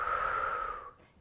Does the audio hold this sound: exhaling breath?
yes